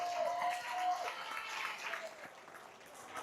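An audience of middle school students claps for Guam's Attorney General at a school outreach event, a steady crowd applause at moderate level that holds for a few seconds, with no words spoken.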